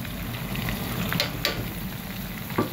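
Ground masala of coconut, coriander, cumin, fennel and chilli powder sizzles in hot oil in a pan, a steady close crackling fry with occasional stirring clinks.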